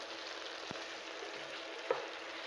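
Fiddlehead datshi being stirred in a pan, heard as a faint, steady frying sizzle with a couple of light utensil ticks, quiet and continuous, with no talking.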